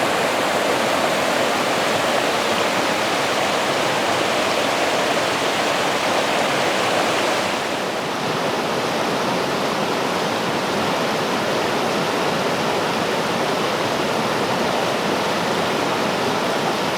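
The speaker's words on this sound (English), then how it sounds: "with all the rains that we've been having, I think the river is up a bit" The Dungeness River runs high and swollen after heavy rain, a loud, steady rushing roar of fast water close by that carries on without a break throughout.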